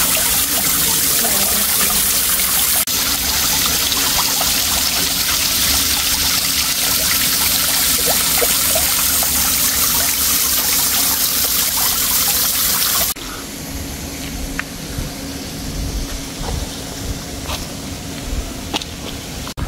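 Steady trickling water runs continuously, fairly close, with a noisy broadband wash that quiets partway through, leaving softer dribbling and scattered small splashes.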